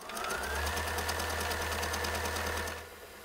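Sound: sewing machine running at home

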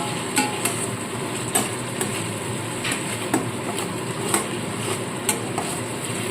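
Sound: spice paste frying and sizzling in oil

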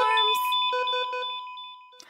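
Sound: alarms going off

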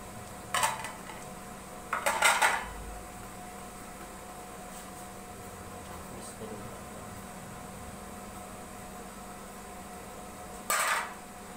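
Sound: adding boiled potatoes to a bowl for raita

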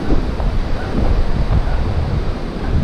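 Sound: sea waves at high tide on a beach

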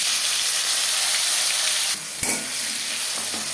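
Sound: bay leaf, onion and tomatoes frying in hot refined oil

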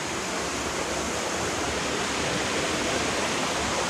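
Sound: flowing water, stream or waterfall

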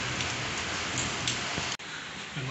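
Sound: rain falling

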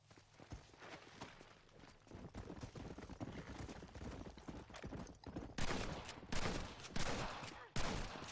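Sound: gunfire in video game Red Dead Redemption 2

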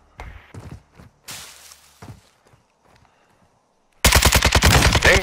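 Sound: gunfire in a shooting video game

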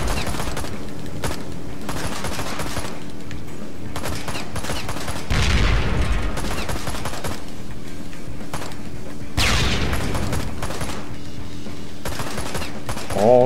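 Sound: gunfire from the video game Ride to Hell: Retribution

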